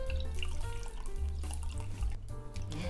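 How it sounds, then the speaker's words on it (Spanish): Cinnamon-infused milk poured through a kitchen strainer into a flan napolitano mixture, a steady close trickle and splash of liquid with small drips. "Ahora voy a poner la leche infusionada y la voy a pasar por un colador para que no se le vayan las ramitas de canela."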